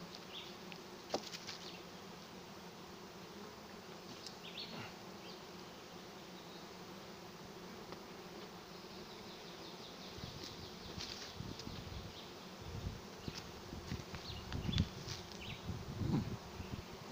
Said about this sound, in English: Lots of bees flying around.